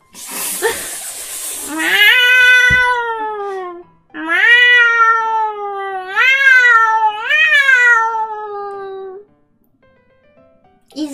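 A person mimics a female cat in heat, letting out long, wavering yowls in three drawn-out bursts with rising and falling pitch, loud and close, then trailing off into quiet.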